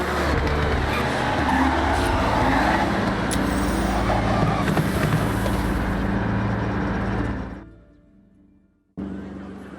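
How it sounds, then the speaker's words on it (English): A car on the road in Forza Horizon 6 on the way to a drift circuit, its engine droning steadily with road roar until it fades out abruptly, then returns briefly. "Let's use the drive to get to grips with the car before we hit the circuit"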